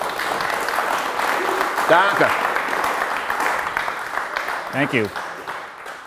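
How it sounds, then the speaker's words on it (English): A round of applause from an audience at a talk on Wisconsin brewing, moderate clapping running throughout while a couple of short spoken thanks cut in over it. "Let's give a round of applause too."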